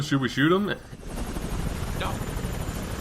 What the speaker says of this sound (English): I don't know why they're using a helicopter.